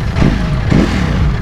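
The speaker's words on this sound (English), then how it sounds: "before we do that, one more rev for each one." A Ducati V4S motorcycle, Streetfighter or Panigale, revs with a loud V4 exhaust, two quick blips rising and falling over a steady idle, close by with no talking.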